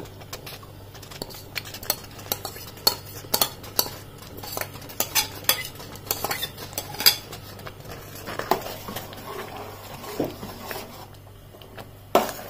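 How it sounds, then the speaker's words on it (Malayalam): Grated coconut is tipped into a pot of Vishu kanji and stirred in. Repeated spoon scrapes and taps against the pot sound close and moderately loud. "ഇനി ഞാൻ നമ്മൾ എടുത്തു വച്ചേക്കണ ഒരു തേങ്ങയാണ് ആ തേങ്ങ ഇതിനകത്തേക്ക് ഇടുവാണ്"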